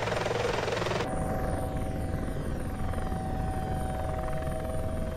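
A helicopter in a Prepar3D v5 flight simulator flying near Van Nuys and Long Beach, with steady, loud rotor and engine noise that shifts tone early on and then holds constant, with no speech.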